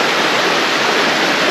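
A river flowing near a free campsite, a steady loud broadband rush of moving water, close and continuous with no voices.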